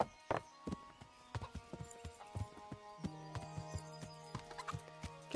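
Chickens clucking in Kingdom Come: Deliverance, intermittent clucks mixed with horse hoof clip-clops in a quiet village scene, with no talking.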